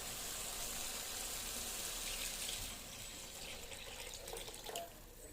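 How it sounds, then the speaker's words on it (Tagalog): Water from a tap pours into a cooking pot for sinigang sa miso soup, a faint, steady rush of liquid that runs throughout without any voices. "Lalagyan ko na ng sabaw, tubig."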